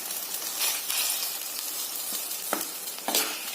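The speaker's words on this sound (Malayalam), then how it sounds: "പുളിയും വെള്ളം ഒഴിച്ച് തിളച്ചു. ഇതിലേക്ക് മീനിട്ട് തിളപ്പിക്കാം." Fish simmering in boiling tamarind water, a steady close bubbling hiss with a couple of brief clinks or stirs, no voices.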